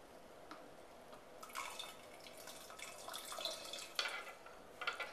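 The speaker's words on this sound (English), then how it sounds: "now I'm going to add my lemon lime seltzer water." Lemon-lime seltzer water being poured into cherry limeade, a faint fizzing and splashing trickle with scattered bright bubbly crackles, close and quiet with no talk.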